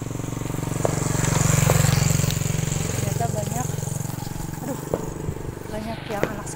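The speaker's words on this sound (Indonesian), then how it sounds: "Di belakangnya ada motor, kita pelan-pelan dulu ya biar motor." A motorcycle swells in from behind cyclists on a road, its engine drone peaking near the start and then fading as it passes, with faint ambient noise and sporadic clicks.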